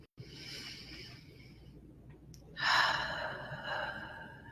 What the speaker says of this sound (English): we'll take 3 breaths together